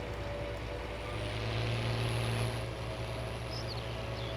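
Tractor pulling a 12-row Kinze 3600 planter in a farm field, a steady close engine drone with a low rumbling hum that rises slightly mid-way, and no talk.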